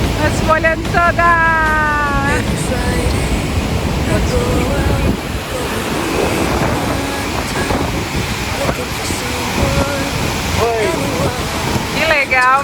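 Broad roar of falling water and spray at Iguaçu Falls, loud and constant throughout, with people talking and a voice over the rushing water.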